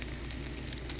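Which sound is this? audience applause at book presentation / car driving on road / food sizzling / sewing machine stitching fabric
food sizzling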